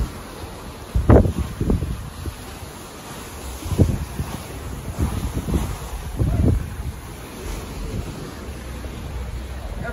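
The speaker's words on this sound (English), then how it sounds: "And there's the open ocean." Wind sweeps across the open ocean from a cruise ship sailing from Miami toward Jamaica, a steady blustery rush with a few louder low gusts and thumps, no talking.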